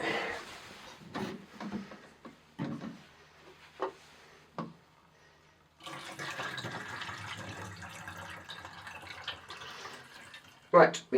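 Used film developer being poured out of a developing tank at home: a few seconds of soft, close liquid gushing and splashing into a sink, then a clunk. Scattered brief handling noises and voice sounds come earlier.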